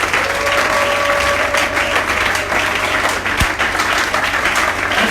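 A church congregation applauds during a sermon. The clapping is dense and continuous, filling the room at a steady, full volume for the whole stretch.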